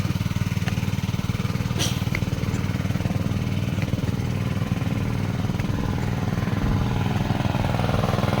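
Two engine-driven water pumps joined to one hose, drawing water from a deep well of about 125 feet, run in a steady low idle drone with a fast mechanical throb, close and continuous, with a couple of faint clicks.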